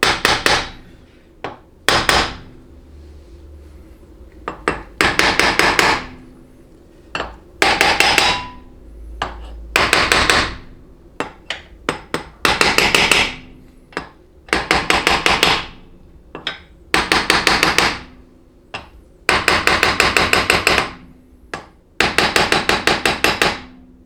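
Repeated loud metallic hammer taps in rapid bursts, struck against a part of a Chrysler A904 transmission during rebuild assembly, with short pauses between each group of blows.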